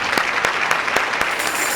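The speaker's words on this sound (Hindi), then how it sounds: "तालियां।" Applause from a comedy show audience, a short dense burst of clapping with a few louder individual claps punctuating the steady roar.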